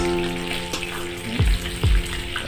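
Chicken wings frying in oil, a close crackling sizzle under a low hum, with two deeper thumps near the end.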